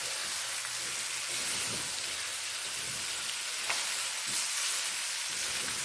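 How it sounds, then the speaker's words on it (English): Potatoes fry in a pot of Guyanese chicken curry, a steady close sizzling hiss with soft scraping stirs and occasional light bumps of the spoon, and no one speaking. "Give it a stir"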